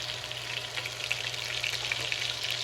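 Beef browning in a pan for beef bourguignon, a close, steady sizzle with small crackling pops scattered through, no voices.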